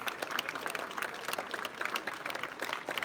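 A crowd applauds Kilian Jornet as he finishes a record-setting Bob Graham Round run. Dense, continuous clapping holds steady for the whole stretch, faint and somewhat distant.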